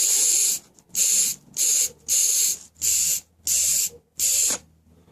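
Air blown by mouth through the carburetor of a 1984 Lawn-Boy lawn mower, its float valve lifting and closing off; seven loud, even hissing puffs of air separated by short pauses, close and alone.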